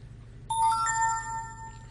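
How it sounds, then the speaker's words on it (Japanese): A messenger app message notification chiming on a tablet, one bright ringing electronic tone that starts suddenly and lingers with a layered, fading shimmer over quiet background hum. "これタブレットにね、メッセンジャーが入ってるんだよ、これなんか。 メッセージ、その音。"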